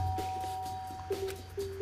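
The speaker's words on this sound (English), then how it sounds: "I pressed the doorbell." Doorbell chime in the game Danganronpa: Trigger Happy Havoc, a couple of short electronic tones ringing faintly over steady game background music, no talking.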